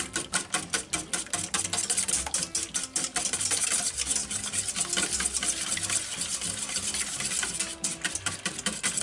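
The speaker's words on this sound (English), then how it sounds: "we're just going to take a whisk and we're going to beat that together really well" A whisk beats a mayonnaise mixture in a bowl with rapid, steady clicking strokes that run continuously and close by, with no voices.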